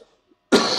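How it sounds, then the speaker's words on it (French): A single harsh cough bursts out close to the microphone after a brief near-silence, loud and rough. "Sur ce, je vous tousse à la gueule"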